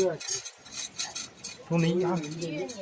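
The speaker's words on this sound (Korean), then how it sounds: "저거 저기 통을 흔들어서 하나 막대기가 빠질 거예요." Bamboo fortune-stick tube shaken at a temple in Guizhou, China, a dry rattling clatter of wooden sticks in short shaken bursts, close and fairly loud, with a voice briefly heard near the end.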